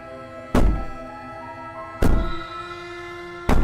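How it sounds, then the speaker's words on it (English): Heavy banging in the video game Slay the Princess, three loud resonant booming impacts spaced about a second and a half apart, each leaving a ringing metallic tail. "Maybe the banging and wailing will stop."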